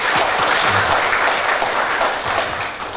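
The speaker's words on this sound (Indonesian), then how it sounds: "Kita beri aplaus sekali lagi dong." A large audience at a polytechnic graduation ceremony in a Banjarmasin hotel hall gives students dense, continuous applause, a steady wash of clapping that stays loud throughout and eases only slightly toward the end.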